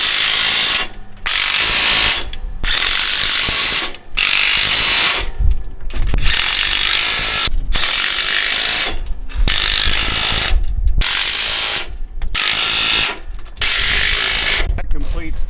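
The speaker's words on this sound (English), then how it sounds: "now we can go around and we can tighten each one of these flanges" A ratchet wrench clicks rapidly and loudly as it tightens the flange bolts on a MacDon FD2 header, in bursts of steady ratcheting broken by short pauses while the tool is repositioned.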